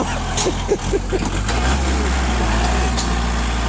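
Tractor engine running with a steady, loud low rumble that settles into an even drone, a few knocks early on and faint voices in the background.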